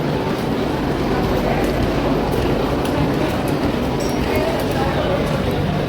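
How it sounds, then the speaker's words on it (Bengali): A train arrives at a busy Indian railway station on the Sealdah to New Jalpaiguri route, with a steady, loud rumble of rolling carriages and wheel noise filling the whole stretch. "ট্রেন তো চলে এসেছে"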